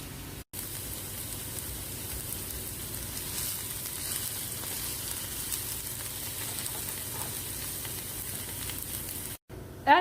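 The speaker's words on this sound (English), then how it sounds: "While we wait for the onions to caramelize" Onions caramelizing in a pan give off a soft, even sizzle that holds steady throughout, broken only by two brief dropouts near the start and end.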